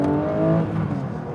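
A 1960s Porsche 901 flat-six in a Porsche 911 ST revs hard at high RPM, a loud, close, steady mechanical howl rich in harmonics for a brief moment.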